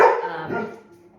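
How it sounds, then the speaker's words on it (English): A pet dog barks indoors, a loud yelp up front followed by a second, softer bark that trails off into a whimpering fade, no talking over it. "my dog is chiming in"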